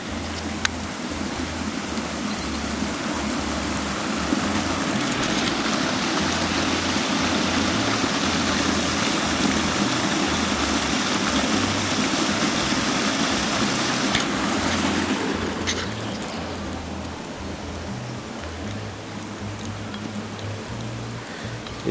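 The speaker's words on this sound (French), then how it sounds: "je vous invite à regarder et à écouter surtout le ressac de l'eau qui descend vers le pont noir, en fait vers la retenue d'eau là-bas" River water surges downstream toward a weir near a black bridge on the Gouet, a continuous loud rushing roar with a low churning rumble underneath, steady throughout and slightly quieter toward the end.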